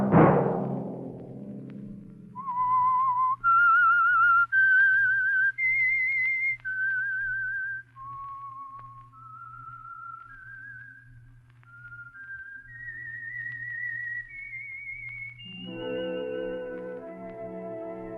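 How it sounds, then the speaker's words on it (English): The Whistler radio program's theme signal: a lone, clear melodic whistle of sustained, wandering notes, loud and close, drifting over a low hum before music enters at the end. "Let that whistle be your signal for the Signal Oil program, The Whistler"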